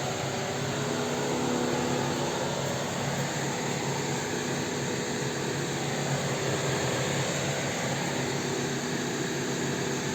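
A car's radiator cooling fan runs at a steady, loud whirring drone, constant and unbroken throughout, on a cold car with a 1.6-litre petrol BGU engine.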